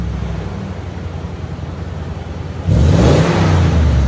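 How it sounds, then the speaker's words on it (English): A 2021 Toyota Tundra 5.7L V8 with true dual TRD Pro exhaust idles with a low, steady rumble, then surges into a loud, deep rev near the end that holds briefly, close by with no voices. "That TRD system gives it that nice deep tone."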